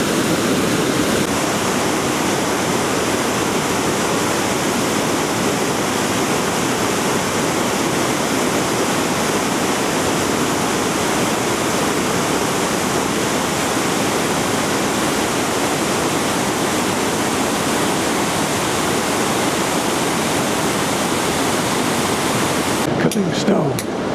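Loud, constant roar of a rushing river in Peru near Aguas Calientes fills the scene, unbroken throughout, with a brief rustle at the very end.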